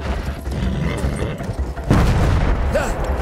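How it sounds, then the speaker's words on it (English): British artillery shelling on a World War I front line in Battlefield 1, heard as a continuous low rumble that swells into a heavier booming impact partway through, with distant battlefield noise around it. "We're on the front line of British artillery fire."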